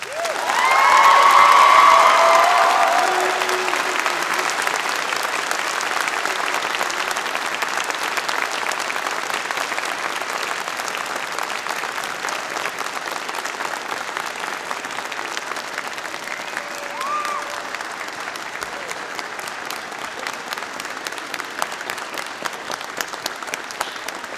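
Sustained applause from a large audience at a graduation convocation, loudest at the start and then settling into steady clapping that continues throughout, with a few faint voices in the crowd.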